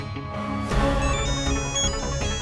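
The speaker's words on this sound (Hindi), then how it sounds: "डैडी का वीडियो कॉल। हाँ तो फिर फोन उठाना।" A phone ringtone announcing an incoming video call, in a comedy drama scene, plays a continuous bright melodic tone pattern loud and close.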